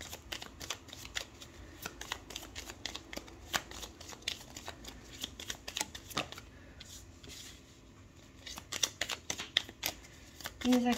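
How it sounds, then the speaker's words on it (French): Tarot cards being shuffled and drawn, a run of crisp riffling flicks and soft slaps repeating in quick irregular bursts close by, with a faint voice now and then in the quiet background. "on va prendre 3 cartes"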